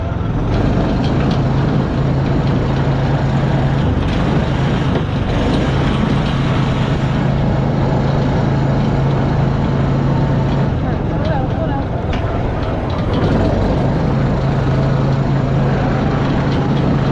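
Off-road vehicles rumble along trails at Xplor Xcaret park in Mexico, a steady loud engine drone with a constant low hum throughout, with voices talking over it.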